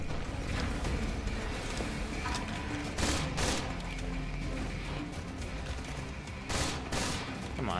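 Rapid gunfire while strafing in the Freedom Wars action video game, a dense, continuous layer of game combat noise with a few sharper bursts standing out, no speech.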